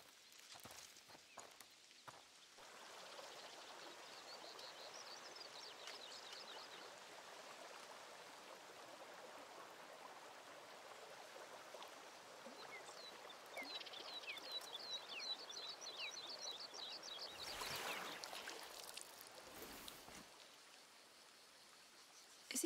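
Steady running water from a stream in A Plague Tale: Requiem, a continuous close wash that swells later on, with birdsong chirping over it and footsteps now and then.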